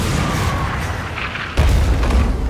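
Ship cannons boom in the naval combat game Skull and Bones, a loud, dense roar of sustained heavy firing that jumps louder about two-thirds of the way through, with no talk.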